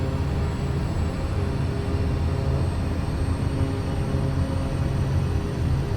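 A Pilatus PC-6 Porter in Microsoft Flight Simulator 2024 runs up to takeoff power, making a loud, steady engine drone and rumble that stays even throughout, with no talking.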